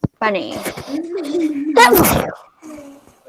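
A child sneezes once, sharply and close, in the middle of a spelling lesson at home. Someone talks just before the sneeze and a voice speaks briefly after it.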